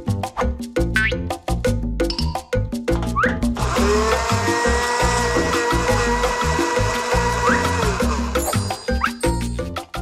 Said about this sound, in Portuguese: Basta colocar os biscoitos no liquidificador.